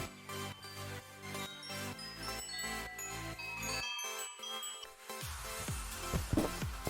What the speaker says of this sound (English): It sounds like a wind chime.